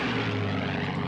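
Propeller-driven warbird engine droning steadily, a brief, fairly distant rumble with an even tone and no voices.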